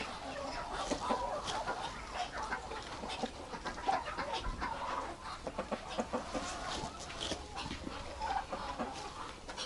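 A broody hen and other poultry in a village yard keep up a steady run of clucks and squawks, close by and moderately loud, with a faint voice now and then.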